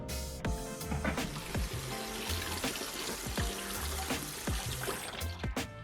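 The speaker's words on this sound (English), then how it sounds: "Step 1, rinse the rice cubes." Rice cubes rinsed under a running kitchen tap for a Malaysian rendang meal: a steady stream of water splashes and trickles throughout, with close clatter and knocks of packets handled in the sink.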